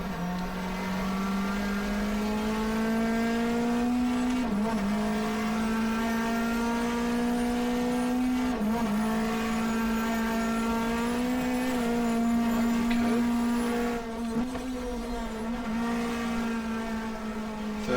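2-litre Class 2 touring race cars at Phillip Island in 1994 howl steadily at high revs, a continuous engine drone with brief dips at gear changes, loud and sustained with no talk.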